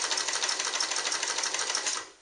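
A Nelco manual zigzag sewing machine stitches in one continuous close, loud burst of rapid rhythmic clatter, slowing and stopping at the end.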